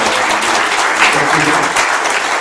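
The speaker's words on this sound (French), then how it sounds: "Donc vous pouvez applaudir" An audience at a talk in a tower bursts into loud, dense applause that carries on steadily throughout, close and full, with a voice faintly beneath.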